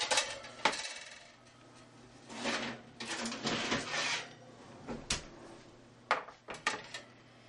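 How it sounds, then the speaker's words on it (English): A baked tray of macaroons is pulled from a 350-degree oven, giving scattered metallic clanks and rattles of the tray and rack, near and moderately loud, with quiet gaps between. "Now we pull them out of the oven."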